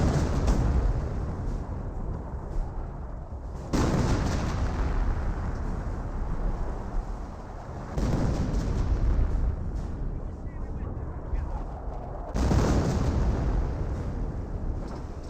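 Artillery barrage in the video game Company of Heroes, with heavy booming blasts landing in roughly three long waves that rumble loudly and continuously through the whole stretch.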